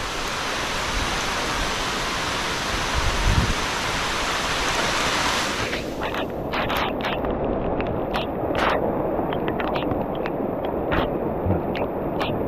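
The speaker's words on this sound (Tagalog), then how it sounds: "Lakas ng ulan." Heavy rain pours down in a steady, dense hiss that fills the whole stretch, loud at first and then thinning slightly, with a few faint sounds scattered through it.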